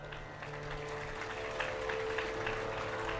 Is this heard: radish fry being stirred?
no